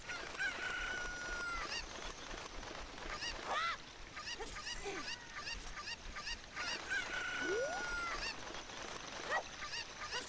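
Cucco chickens in Zelda: Ocarina of Time squawking and clucking in repeated shrill calls, a few bursts spread across the stretch over a steady game background, without talk.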